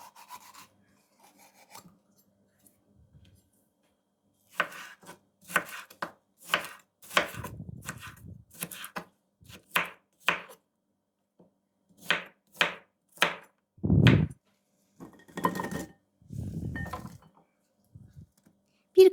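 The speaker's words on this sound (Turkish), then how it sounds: "Tepsinin ortasına koymak için bir soğan, bir kırmızı biber ve 2-3 diş sarımsak doğrayalım." A knife chops an onion, a red pepper and a few garlic cloves on a board, with close, irregular clusters of sharp cuts separated by quiet pauses.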